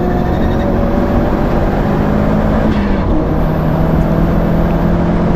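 A Subaru GC8 Impreza STI drives fast on a track, its engine droning loud and steady with a rising whine and heavy road noise, and no one speaks.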